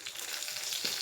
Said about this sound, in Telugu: మళ్ళీ 2 స్పూన్స్ ఆయిల్ వేసుకుంటున్నాను. టమాటా మగ్గించుకోవడానికి అనమాట.